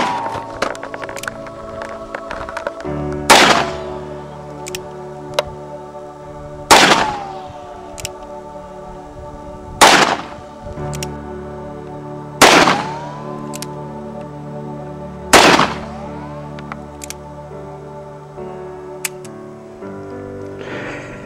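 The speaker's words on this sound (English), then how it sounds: "He's shooting his Ruger Vaquero." A Ruger Vaquero revolver fired outdoors in the desert lets off five sharp, loud reports spaced a few seconds apart over a steady tonal background hum.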